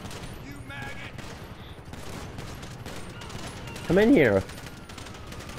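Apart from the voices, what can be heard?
gunfire in video game GTA V Online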